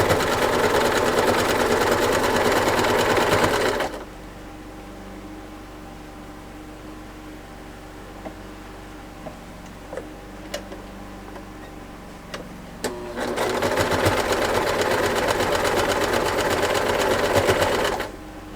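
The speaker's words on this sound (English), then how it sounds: "So we're going to have the first section of our grid done, and we'll sew those together." Sewing machine stitching quilt block pieces together, a loud steady whir running near, stopping for a quiet stretch with a few small clicks and handling ticks, then starting again.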